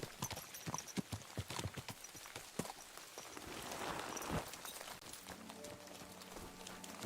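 Horse hooves clip-clop at a brisk gait while riding in Kingdom Come Deliverance 2, close and rhythmic for a few seconds before fading into a softer wash of game ambience.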